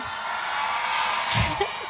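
Fans at a countdown concert scream and whoop as a remix starts, a dense, distant crowd roar that swells to a louder peak near the end.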